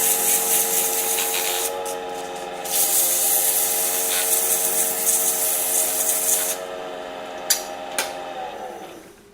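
Burl wood salt cellar box sanded on a running lathe, a steady broadband rubbing hiss over the motor's whine, continuous and close for most of the stretch before the lathe spins down at the end.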